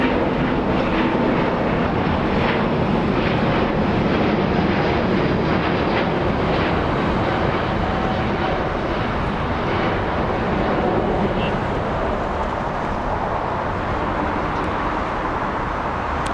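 Airbus A350 jet engines at Los Angeles International Airport give a loud, sustained broadband roar that stays steady throughout, with no voices present.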